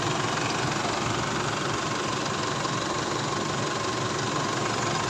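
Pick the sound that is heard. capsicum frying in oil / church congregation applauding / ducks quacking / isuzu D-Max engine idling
isuzu D-Max engine idling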